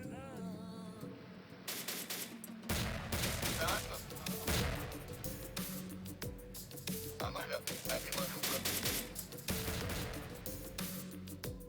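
Automatic grenade launcher fire in the war game Syrian Warfare, a busy stream of repeated bursts and blasts mixed with other combat noise, with talk over the battle throughout.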